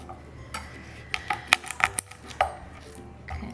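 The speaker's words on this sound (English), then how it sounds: "so I'm going to chop the garlic" Knife chopping six garlic cloves on a cutting board, a series of sharp irregular taps and clicks close by, clustered in quick bursts with short pauses, no talking.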